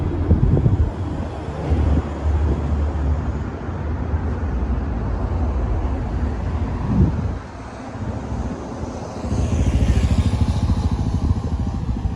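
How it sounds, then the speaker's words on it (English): A supermoto motorcycle passes along a city street on a hot day, its engine a steady low drone that swells around the middle and rises again near the end, under wind noise from an outdoor microphone. "Supermoto."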